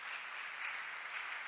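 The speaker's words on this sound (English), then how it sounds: "A last warm round of applause" A final warm round of applause from a conference audience closing a two-day event, steady faint clapping throughout a brief moment with no voices.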